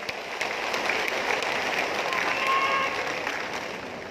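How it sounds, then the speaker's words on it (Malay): Crowd applauding at a Barisan Nasional political rally in Sabah, a dense steady wash of clapping across the whole stretch that fades slightly toward the end. "Tepukan untuk mereka"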